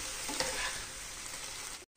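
A chilli paneer gravy is stirred in a hot pan, with a continuous close sizzle and some scraping, cutting off abruptly just before the end.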